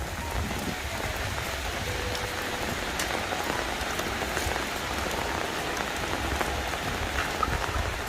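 Steady rain falls on a surface with a dense, even patter of drops, continuous and unchanging throughout, with no voices.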